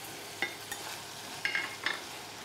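Tomato being sautéed in hot oil with onion and garlic in a pan for a clam and starfruit soup: a quiet steady sizzle with a few sharp spatula scrapes and stirring clicks, no voices.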